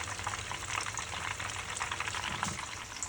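Vietnamese spring rolls sizzling in hot frying oil, a steady bubbling crackle that carries on evenly, close up, with no voices.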